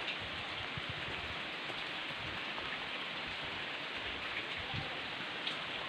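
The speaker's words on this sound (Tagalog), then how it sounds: "Lakas ng ulan." Heavy rain pours down steadily in a dense, continuous hiss during a road trip in Bulacan, Philippines, with occasional louder drops and no voices.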